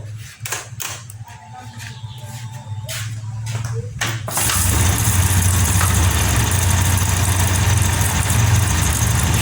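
A 2022 Honda Scoopy scooter with a battery that keeps dying, after several short cranking bursts, catches and settles into a steady, loud, close idle that fills the rest of the clip, with no talking.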